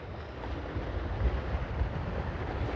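Strong wind buffets the microphone with a steady roar and low gusty rumble, out in the open over the wavy water of the Pasak Jolasid Dam reservoir, with no voices.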